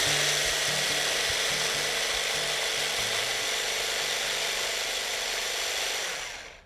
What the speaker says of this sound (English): Measure 250 grams of fresh raspberries and 2 tablespoons of icing sugar into a small processor. And you just puree that.